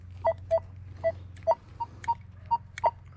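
Metal detector signal tones while hunting for coins outdoors: a series of short, clear electronic beeps, about eight in three seconds, repeating at a steady pace over a low hum.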